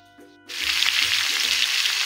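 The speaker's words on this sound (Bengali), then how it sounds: "এদিকে আমি আলুটা ভাজতে বসিয়ে দিয়েছি" Potatoes with some of their peel left on, frying in a pan, with a loud steady sizzle that bursts in suddenly after a quiet moment and continues without break under faint background hum.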